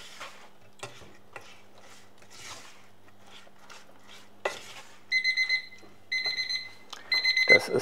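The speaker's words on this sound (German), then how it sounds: "Das ist der Timer für unseren Teig." A kitchen timer set for baking cake batter rings in several bursts of bright electronic beeping near the end, after a stretch of quiet kitchen stirring and clinking sounds.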